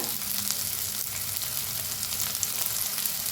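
Small chopped tomatoes with turmeric fry in a hot pan, giving a steady, close, even sizzle with faint stirring and no voices.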